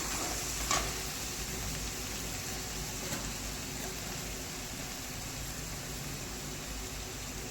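Onions with a half spoon of turmeric powder sizzle steadily in a pan while being stirred, a soft continuous hiss with a faint scrape near the start, no talking.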